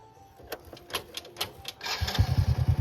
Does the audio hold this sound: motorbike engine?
yes